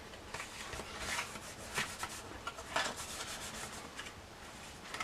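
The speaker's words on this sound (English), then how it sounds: "Burnish it down real good so that it sticks." Score tape being burnished firmly onto a paper pocket, giving soft, close rubbing and scraping strokes in short bursts, with no talking.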